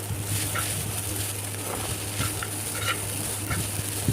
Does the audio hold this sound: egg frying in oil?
yes